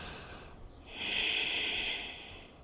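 A single slow, deep breath during a yoga session, a soft airy inhale followed by a longer, louder hissing exhale close to the microphone, with no talking.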